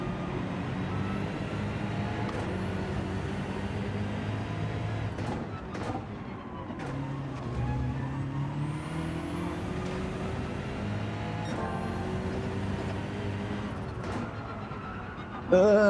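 Engine drone of racing cars in Gran Turismo 7 during a daily race at Trial Mountain, steady revving tones with gear-shift pitch sweeps and passing cars, fairly loud and continuous.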